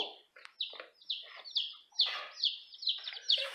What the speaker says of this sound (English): they have some really cute chicks in there